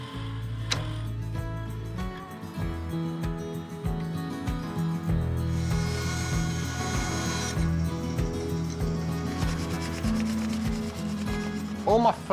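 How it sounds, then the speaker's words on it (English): Sharp chisel cutting faux bamboo beading on a wood lathe, a steady close rubbing and scraping with frequent ticking catches as the tool meets the spinning timber, continuous throughout. "I'm turning the bamboo beading on the lathe."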